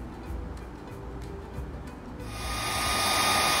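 A few soft clicks and handling sounds lead into a hair dryer switching on, then a loud, steady blowing roar that continues to the end as it spreads paint across paper sheets.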